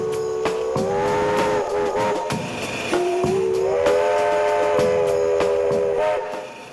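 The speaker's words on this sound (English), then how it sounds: "I'll give the whistle a little blow." Steam whistle on a homemade AgLoco steam locomotive, sounding a long, loud chord with several sustained tones that dips and rises in pitch across nearly seven seconds, close by with no talk.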